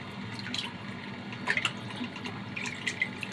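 Cold water running from a kitchen tap while cows' trotters are rinsed for cooking, a steady faint stream with scattered drips and splashes throughout.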